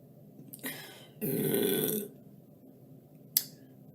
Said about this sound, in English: It was an 80s burp.